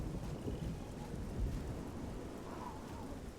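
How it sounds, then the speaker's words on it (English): Steady rain and rolling thunder fill the outdoor world of the video game Oblivion, a continuous broadband downpour with low rumbles underneath. It is fairly quiet overall, and no voices are heard. "I'm gonna wait until, like, the rain stops here."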